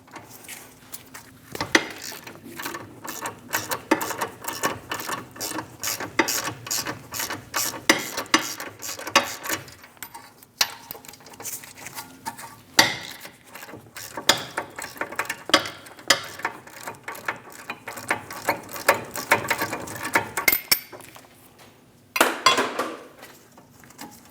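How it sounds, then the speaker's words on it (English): A 21mm socket on a ratchet works loose the two caliper bracket bolts on a 2016-2025 Chevrolet Malibu during front brake replacement, giving rapid, close metallic clicking in bursts with brief pauses between. "Using a 21mm socket, remove the 2 caliper bracket bolts."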